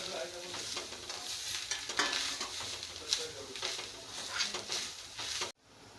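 Dried coconut sautéing in a pan for mutton curry, a steady close sizzle with repeated scraping stirs throughout, ending abruptly in near silence.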